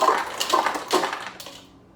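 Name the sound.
shaking a cocktail with ice in a shaker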